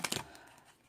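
A quick burst of soft, papery riffling clicks at the very start, then near silence; a brief card shuffle heard up close.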